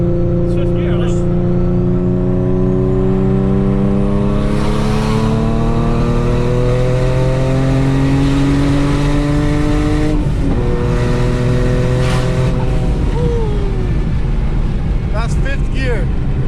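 An 800 hp built Infiniti G37 coupe accelerates hard in fifth gear, its loud engine note climbing steadily with rising harmonics before a brief dip and another surge, heard from inside the car with people talking over it.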